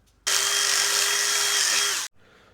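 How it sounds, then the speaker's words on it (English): A power rivet tool fastening a race car spoiler repair, one close, loud buzzing burst lasting about two seconds that cuts off sharply, followed by a faint tail, no talk. "So now these two are riveted in, that side and that side."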